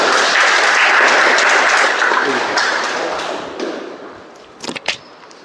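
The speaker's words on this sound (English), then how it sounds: "Let's welcome him with a huge round of applause" Loud round of audience applause at a Toastmasters club meeting, dense steady clapping that fades over several seconds, ending with a few scattered claps.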